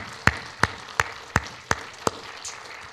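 Congregation at a Spanish-language church service clapping in praise, six evenly spaced sharp claps in a steady rhythm, moderately close over a quiet room.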